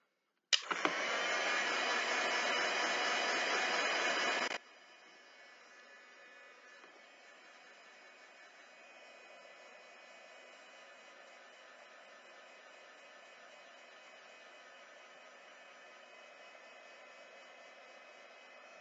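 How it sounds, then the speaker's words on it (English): A heat gun blasts on with a loud, steady whooshing roar for about four seconds, then cuts to a faint lingering hiss. "I'm going to put my heat tool on."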